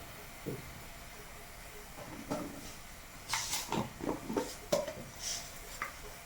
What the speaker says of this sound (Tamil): இப்போ இதில் நம்ம கடுகும் ஜீரகமும் தாளிச்சிக்கணும்.